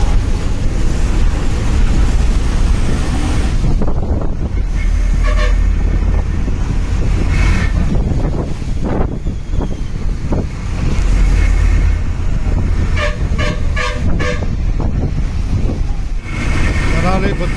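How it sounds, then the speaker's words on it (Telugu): A Chandralanka–Kothurulanka village bus travelling along, with a continuous engine and wind rumble, bursts of road noise and a few horn toots scattered through. "చంద్రలంక కొత్తూరులంక బస్సు చంద్రలంకలో ప్రయాణం."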